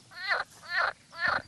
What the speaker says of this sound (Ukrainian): а жаби гучно кумкають перед дощем